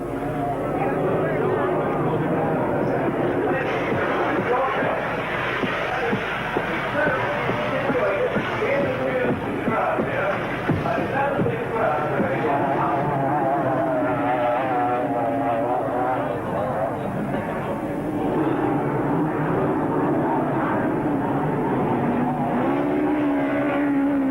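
Racing powerboats roar on the water at Bristol Docks during a 1978 race meeting, a steady droning engine noise that holds throughout beneath continuous commentary.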